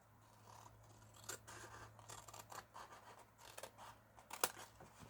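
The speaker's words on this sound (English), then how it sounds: "So, because I have my score line, I can guide my scissors straight" Scissors cut a 12x12 sheet of patterned designer paper along a score line, giving a series of quiet, close snips and crisp paper scrapes in an uneven rhythm, alone without talk.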